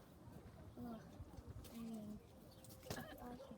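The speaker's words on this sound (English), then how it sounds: "That's the bird. It sounds like a duck." A rare wild bird gives a few short, low, duck-like calls at close range over steady background noise, with people talking throughout.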